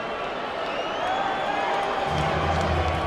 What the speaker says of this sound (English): There are many Ukrainian fans here, so there will be a positive reception from much of the crowd for Wladimir Klitschko